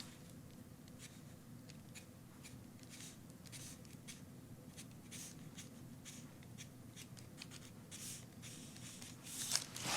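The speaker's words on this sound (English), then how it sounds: "I'm tracing the waist and hip" A pencil traces a skirt sloper's waist and hip lines onto paper, with faint, intermittent scratchy strokes and soft paper rustles in a quiet room, a little louder at the end.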